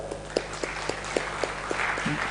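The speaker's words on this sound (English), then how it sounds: "give a big round of applause to our acharyas." Audience at a national medical conference applauding, scattered distinct claps ringing out over a steady room hum, fairly sparse and moderately close.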